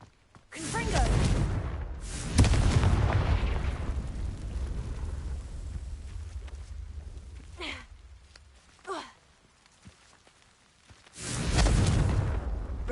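Confringo fire spells from the game Hogwarts Legacy go off in loud whooshing blasts, first a long roaring burst, then a few short sharp pops, and a final heavy blast at the end, with quiet gaps between them.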